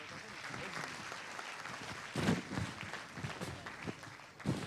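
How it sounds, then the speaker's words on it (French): Audience applause for new performers at the Faso Academy 2017 launch ceremony, a fairly quiet, steady patter of clapping with a few louder swells, under a noisy room. "ces nouveaux académiciens que je vais vous demander d'applaudir encore"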